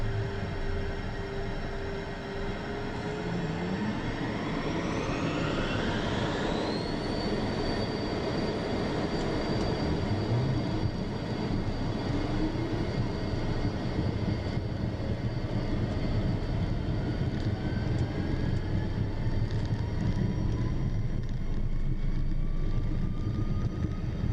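A Beechcraft Premier business jet accelerates on its takeoff roll, steady loud engine roar with whining tones rising in pitch, heard continuously from inside.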